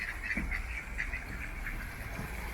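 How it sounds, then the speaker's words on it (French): Faint, repeated nasal quacks from a duck over a steady background hum, several calls in a loose rhythm. "C'est le canard qui fait ce bruit."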